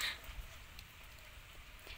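Light rain falls outdoors in a steady, soft hiss and patter, even and continuous with no voices.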